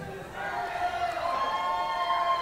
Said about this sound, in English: This crowd, this hot crowd wants to see it.